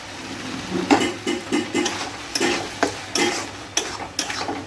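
Prawns stir-fry in a pan with poppy seed and cashew paste, as a spatula scrapes and stirs in a rhythmic series of short strokes over a low sizzle. Close and moderately loud, with no voices.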